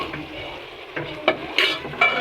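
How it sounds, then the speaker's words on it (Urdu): Cauliflower and meat curry frying on high heat in a pan while a spoon stirs it, giving a steady sizzle with several sharp scrapes and clinks of metal against the pan, close and clear, with no talking. "اب میں اس کو پھر تیز آنچ پہ فرائی کروں گی، بالکل ایسے۔"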